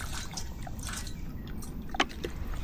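A dog laps water outdoors at a warm campsite, producing soft wet drips and small splashes over a steady low background hum, with one slightly louder slurp near the end.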